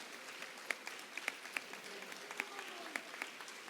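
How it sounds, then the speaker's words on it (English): Scattered applause from an audience at a high school awards ceremony, quiet and fairly distant, with a few sharper claps poking out of a soft steady patter and a little background talk. "We'd like to give you guys a round of applause for getting through it."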